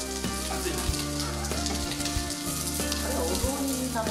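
Onions frying in a pot for Western-style zoni give a loud, continuous sizzle with crackling, mixed with steady background music and occasional stirring knocks.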